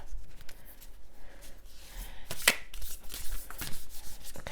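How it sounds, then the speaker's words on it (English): An oracle card deck, a hard-to-shuffle Lover's Oracle set, is shuffled by hand in a quiet room, giving soft papery riffling and rubbing with a sharper slap partway through, close and alone. "using my Lover's Oracle deck, which is notoriously difficult to shuffle"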